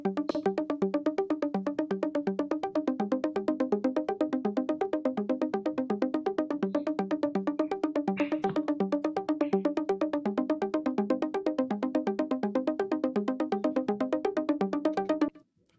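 A Repro 5 synth, a Prophet 5 emulation, plays a fast, steady pulsing riff of repeated bright notes for about fifteen seconds without pause, clear and upfront, before cutting off abruptly.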